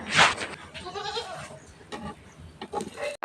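Goats bleating at feeding time in a village farmyard, with one loud close bleat at the start followed by several softer, wavering bleats from the herd over a few seconds.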